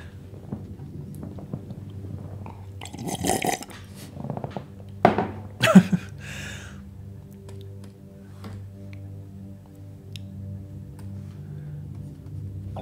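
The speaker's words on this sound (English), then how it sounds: "You guys can hear some real high quality slurps now." Someone slurps a drink close to a sensitive microphone: several short, wet, hissing sucks bunched in the middle of the stretch, with faint clicks and a low room hum around them.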